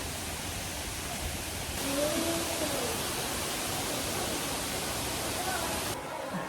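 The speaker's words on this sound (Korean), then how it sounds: "가까이서 보니 내뱉고 있는 물줄기가 폭포처럼 느껴지는 데다가 감히 크기를 가늠할 수 없을 정도로 거대했다" Water gushes steadily from the mouth of a giant turtle statue at a resort theme park in Phu Quoc, making a constant broadband waterfall roar that stays fairly loud and unbroken throughout.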